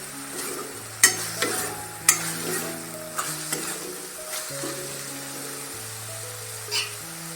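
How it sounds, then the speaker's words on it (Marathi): Radish sabzi stir-fried in a pan to cook off leftover water gives a steady close sizzle, with sharp spatula scrapes and clinks against the pan at intervals and a low hum underneath. "ते परतून उरलेलं पाणी आळवून घ्यायचं आहे आपल्याला"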